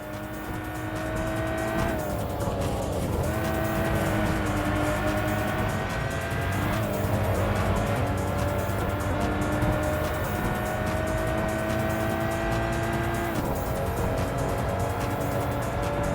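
Race cars roaring through the Import Tuner Challenge video game, a continuous loud engine drone with pitch shifts at gear changes and occasional tire squeal, no speech.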